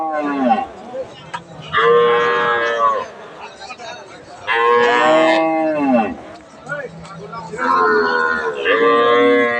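A crossbred cow at a rural cattle market lets out loud, drawn-out moos, four long calls close by with short pauses between, over a low murmur of market background.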